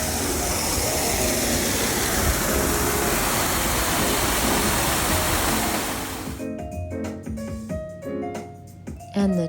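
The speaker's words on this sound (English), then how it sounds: "This was just a beautiful waterfall. Or water fountain, sorry, not a waterfall." Loud, steady rush of splashing water from a fountain beside a harbor in South Carolina, a broad continuous roar that cuts off abruptly near the end, leaving quieter, patchier sound.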